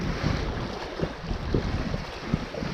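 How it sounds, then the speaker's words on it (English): Cold, gusty wind roars across the microphone beside remote Brule Lake, a dense low rumble with irregular buffeting bursts and no voices. "It's a cold wind."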